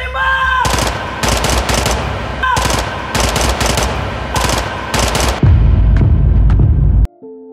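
Gunfire in the Indonesian film Darah Daging: loud bursts of automatic fire in repeated rapid volleys with shouting voices between them, ending in a heavy low rumble that cuts off abruptly.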